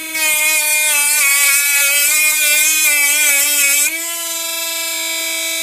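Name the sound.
cheap Chinese mini grinder/engraver deburring metal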